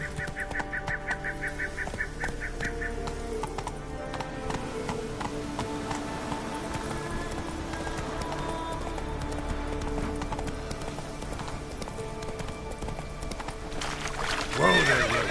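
Hooves of Roach, a horse in The Witcher 3 video game, clip-clop in a steady gallop rhythm over continuous game music, with a whinny and neigh rising clearly near the end.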